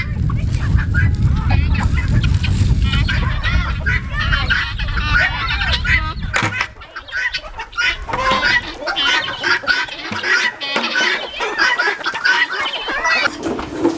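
Chickens cluck and chatter throughout a windy outdoor feeding, with a strong low wind rumble over the first half and a lively flock of overlapping clucks that stays close and busy to the end.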